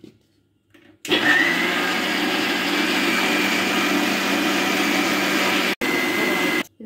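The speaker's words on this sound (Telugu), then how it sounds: "ఇప్పుడు మనం మిక్సీ పట్టుకుందాం." A mixer grinder blending water apple, beetroot pieces and milk into juice starts abruptly after a second of quiet and whirs loudly and steadily, with a brief cut near the end before running on.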